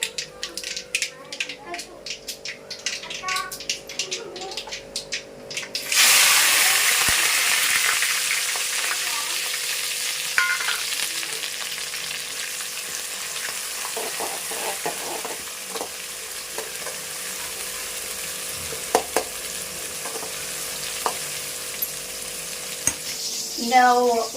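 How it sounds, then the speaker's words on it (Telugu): Tempering frying in a pan with onion, green chili and curry leaves: after a few quiet clinks, a loud sizzle bursts in and settles into a steady hiss with occasional stirring scrapes, while a person talks. "ఇప్పుడైతే తాలింపు అయితే పడుతుంది"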